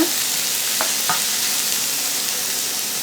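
Onions sautéing in oil left over from frying chicken, a steady close sizzle running throughout with a couple of brief stirring scrapes early on.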